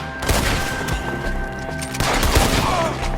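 Dense gunfire erupts in Red Dead Redemption 2 as a shootout rages against enemies up in the trees, rapid overlapping shots and cracks close by, loud and continuous with a musical drone beneath.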